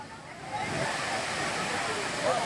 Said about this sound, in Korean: 저 위에서 봐라. 뭐, 하늘에서 물이 내려오거 봐라.